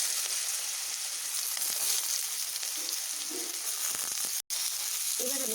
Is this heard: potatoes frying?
yes